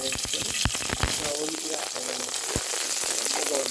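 Onions frying in oil in a pressure cooker for egg biryani, a close, busy crackling sizzle with sharp pops and spatters throughout, fairly loud and without talk.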